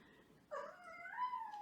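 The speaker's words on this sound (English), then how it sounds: "That's my cat meowing." A pet cat named Jade gives a short, faint meow indoors, a single drawn-out wavering cry rising and falling over about a second, with no talk over it.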